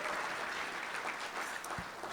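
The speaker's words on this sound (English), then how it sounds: "Let's give them a round of applause and thank them again for all that they do and who they are." A luncheon crowd at a mayor's civic event in the San Fernando Valley gives a round of applause, a soft, even wash of clapping that continues without voices, ending with a brief low thump.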